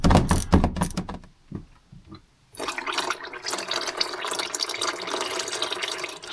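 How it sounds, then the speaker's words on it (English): Engine oil from a 2.0L 2026 Hyundai Kona pours steadily into a drain pan, a continuous liquid splashing stream that starts after a few sharp clanks and quiet pause and carries on to the end. "So we'll let that drain for a little bit."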